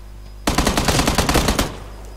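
Rapid automatic gunfire in the PUBG Lite battle royale game: a loud, dense burst of shots lasting just over a second, breaking in abruptly after a quiet lull and then stopping.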